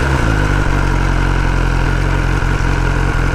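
A 2021 BMW S1000R motorcycle engine runs loud and close in a steady, even idle with a deep low hum and a few small stutters.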